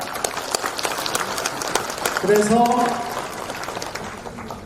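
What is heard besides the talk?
audience applause at a speech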